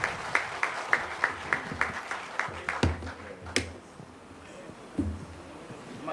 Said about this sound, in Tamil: மிகப்பெரிய கைத்தட்டல் தட்டலாம்.